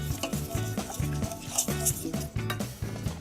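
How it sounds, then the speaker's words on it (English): A whisk clinks steadily against a pan as caster sugar and soft dark brown sugar are stirred together over very low heat, with rapid rhythmic metallic taps close up. "I gently whisk everything together over very low heat until"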